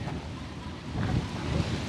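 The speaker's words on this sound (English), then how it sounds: "Now it's really windy." Strong wind outdoors in Honolulu buffets the microphone with a continuous, rough low rumble that swells slightly partway through, with no voices.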